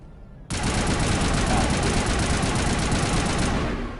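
Sustained sci-fi gunfire from Mass Effect, a dense, continuous rattling burst that starts abruptly and holds steady at close range for about three seconds before easing off.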